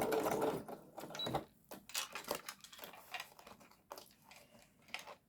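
A sewing machine stitches a fabric journal cover in short, uneven runs of quiet mechanical clatter, with brief pauses and light handling noises between bursts.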